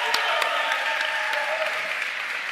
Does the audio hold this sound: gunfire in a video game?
no